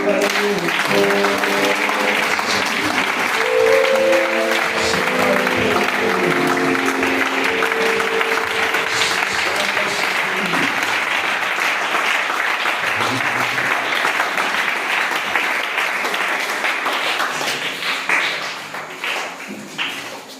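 A church congregation applauds steadily and loudly, a dense wash of many hands clapping with faint music underneath, sustained throughout and easing slightly at the very end.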